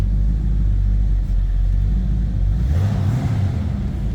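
A 1941 Chevrolet two-door sedan street rod idles steadily with a deep, loud, close rumble, then revs up briefly near the end and settles back down, with no voices over it.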